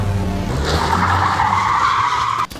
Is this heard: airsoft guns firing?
no